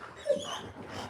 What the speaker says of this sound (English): My dogs are coming to visit me.